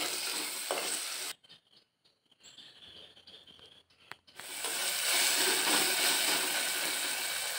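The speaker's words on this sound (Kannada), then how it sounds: "ಈಗ ಇದನ್ನು ಸ್ವಲ್ಪ ಹೊತ್ತು ಬಾಡಿಸಿಕೊಳ್ಬೇಕು." Chopped green chili sautéing in a pan while cooking a cucumber curry, a loud steady sizzle that drops out for a few seconds in the middle and then returns strongly, with no talking.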